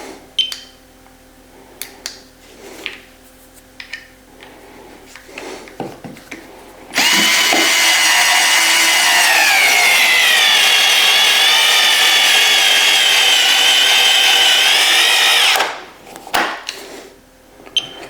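A Bosch Go 3 cordless 4V screwdriver drives a screw into wood with one sustained, close, high motor whine of about eight seconds. Clicks and handling knocks come before and after it.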